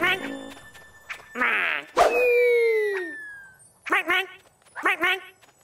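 Cartoon dog in a snowy children's animation gives a few yips and barks, then a long, drawn-out whimper sliding downward, followed by more quick, close barks, all loud and clear.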